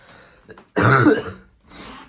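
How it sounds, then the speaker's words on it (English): A single harsh, throaty cough up close in a dusty room, preceded and followed by quieter breathy throat sounds. "Sorry about my coughing."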